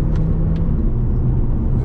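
Mercedes CLA250E hybrid shooting brake engine roaring under acceleration, a loud, steady low rumble heard from close by with no talk over it.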